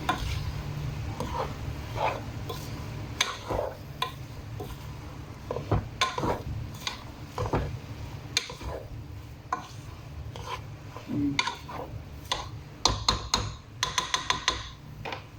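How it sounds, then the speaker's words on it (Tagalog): Radish and radish leaves being stirred in a pan, with irregular scraping and metallic clanks of a utensil against the cookware, close by and uneven in rhythm. "labanos at dahon ng labanos. Yan. Haluin lang natin."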